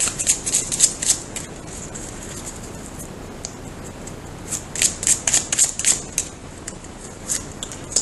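Tarot cards are shuffled by hand in quick bursts of crisp riffling and slapping, with a quiet stretch in between and soft room noise underneath.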